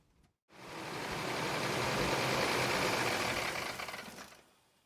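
A 2005 Toyota Tundra engine with a rough run and no power runs steadily at close range, a dense broadband rumble that starts after a brief pause, holds for about four seconds, then fades out.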